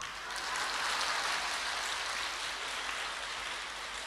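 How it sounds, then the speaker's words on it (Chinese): An audience at a Buddhist Dharma talk in Sydney claps together, a broad, even wash of applause held at a steady level for a few seconds without voices. "鼓掌。"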